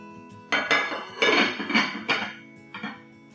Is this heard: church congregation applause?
no